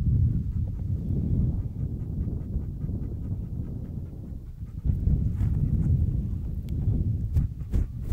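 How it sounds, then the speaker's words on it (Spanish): Outdoor wind buffets a shotgun microphone fitted with a windscreen, giving loud, uneven low rumbling gusts that swell and ease throughout, with a dog panting close by and a few faint clicks. "ahora ha subido un poco el viento"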